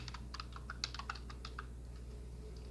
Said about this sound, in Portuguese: Vou digitar outra vez Image Clip no teclado.